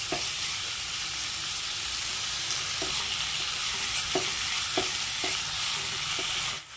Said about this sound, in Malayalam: ഇഞ്ചി വെളുത്തുള്ളി ചതച്ചത് ഇട്ട് കൊടുക്കാം എന്നിട്ട് ഇതും കൂടി ഇട്ട് കൊടുത്തിട്ട് നന്നായിട്ടൊന്ന് വഴറ്റിയെടുക്കാം